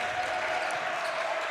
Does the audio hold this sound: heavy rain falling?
no